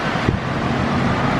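Strong wind blowing during a rainy thunderstorm with lightning, a steady loud broadband rush with a gusty thump early on, no talk.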